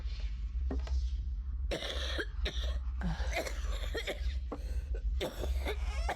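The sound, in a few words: coughing in the video game Please, Forgive Me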